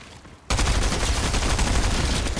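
Rapid gunfire bursts from the video game Fortnite Battle Royale erupt after a brief quiet start, loud, dense and continuous for about two seconds.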